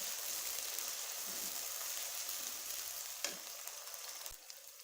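Tomatoes sizzling in a pan with chicken liver, a steady close frying hiss running throughout with a few soft clicks of stirring.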